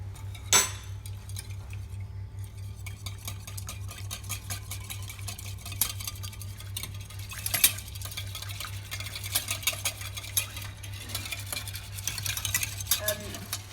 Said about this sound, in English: And then you just start whisking.